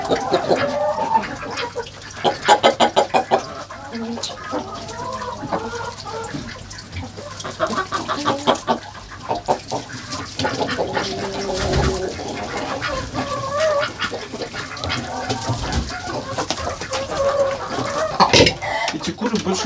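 Chickens in a village coop cluck and squawk continuously up close, with a flurry of scattered calls and wing movement, while a person speaks now and then over the noise.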